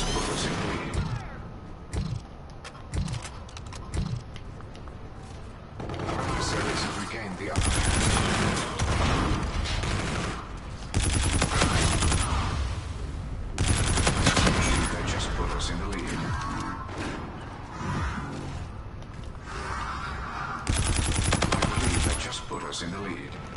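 Video game gunfire with rapid automatic bursts and sharp sniper shots, loud and nearly constant, while players talk over the action.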